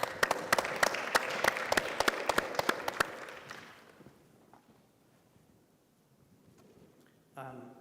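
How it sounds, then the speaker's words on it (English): Audience applause at a conference plenary session of the Africa CDC: dense clapping holds steady for about three seconds, then fades into a quiet room, with a brief rustle near the end. "Please, a round of applause for him."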